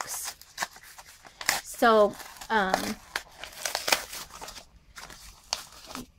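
Plastic packaging of a deco tape dispenser pen being opened by hand, with close crinkling, tearing and rustling in uneven bursts, and a person speaking briefly at the start.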